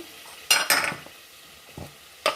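Onion and garlic go into hot oil in a pan for bitter gourd palya, with a few sharp clinks of a spoon against the pan and soft sizzling in between.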